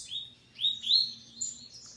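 A caged coleiro seedeater sings a few short, bright chirping phrases, clear and fairly close, over a faint low background hum, with no one talking.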